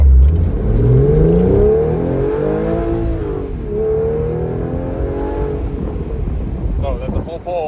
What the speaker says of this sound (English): So that's a full pull from a top down Pfister exhaust.